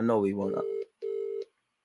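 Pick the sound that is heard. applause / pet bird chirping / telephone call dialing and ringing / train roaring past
telephone call dialing and ringing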